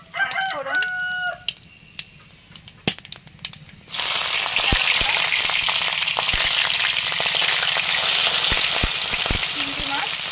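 Whole spices tempering in hot mustard oil, a sudden loud sizzle bursting in after a quieter start with distant bird calls, then a dense, steady crackling hiss continuing to the end.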